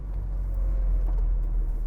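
A Mini 1275 GT, British Leyland's early hot hatch, drives along with a steady low engine drone and road rumble from inside the cabin, no voices over it.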